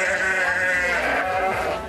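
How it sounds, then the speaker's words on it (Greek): A stray sheep wandering city streets in Limassol, Cyprus, bleats loudly and close in one long, wavering, nasal cry that holds for nearly two seconds. "είναι το απολωλός πρόβατο"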